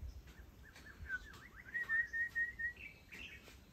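A white-rumped shama, an introduced songbird, sings outdoors with a faint sequence of clear whistled and warbling notes, including a sustained sweet phrase, over quiet ambient background.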